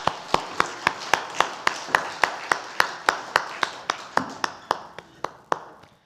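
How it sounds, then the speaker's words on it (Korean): Congregation applauding during a Sunday daytime church service, a steady run of about twenty sharp, evenly spaced claps that slowly fade toward the end. "하나님께 영광의 박수 올려드립니다."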